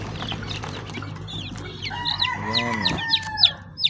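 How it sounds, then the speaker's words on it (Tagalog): Chirping from baby chicks at a farm, with rapid high peeps that build toward the end over soft clucking from adult fowl and a brief spoken word. "Dito naman tayo sa mga sisiw."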